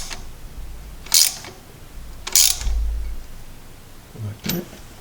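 A nut being tightened with a ratchet wrench on the engine of a 1978 Ford Mustang II, three short bursts of rapid ratchet clicking, close and crisp, separated by brief pauses.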